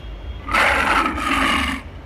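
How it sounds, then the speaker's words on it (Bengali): A lion's single drawn-out roar, broad and rough, swells in over a low background rumble, holds for about a second and a half, then cuts off. "সিংহ, লায়ন"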